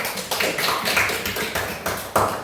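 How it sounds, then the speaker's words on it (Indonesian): A classroom audience claps for group 2, a steady patter of many hands lasting a few seconds, fairly close and loud, with no talking over it. "berikan aplaus dulu untuk kelompok 2"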